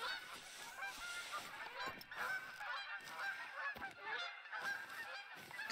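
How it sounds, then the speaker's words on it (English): A flock of geese honks continuously in the hunting game TheHunter: Call of the Wild, a dense, steady chorus of overlapping calls at moderate distance with no talk over it. "I can also hear lots of geese."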